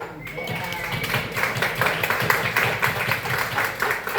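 Audience at a comedy club applauding the host, a steady patter of dense clapping that continues evenly throughout.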